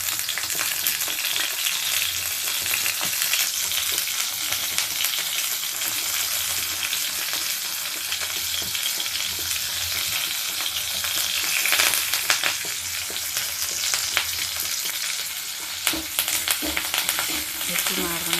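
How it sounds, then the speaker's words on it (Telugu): Green chillies fry in a hot pan, giving a loud, dense, continuous sizzle with occasional stirring scrapes, and no one speaks. "పచ్చిమిరపకాయలు వేసి వేయించండి"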